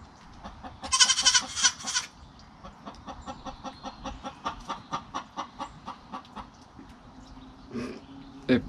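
Buckling goats bleat repeatedly in short wavering calls, with chickens clucking in a rapid run near the start; farmyard sounds close by.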